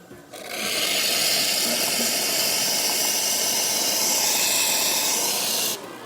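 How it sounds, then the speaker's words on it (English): A Bezzera espresso machine pours hot water with a strong, continuous hissing rush that starts abruptly and cuts off just before the end. "Let's run some hot water"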